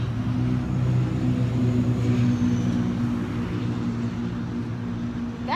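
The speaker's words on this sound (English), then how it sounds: "That truck is so jacked up that just went by, that really loud truck." A very loud lifted, jacked-up truck drives by close, its deep engine rumble steady and dominant throughout before easing slightly toward the end.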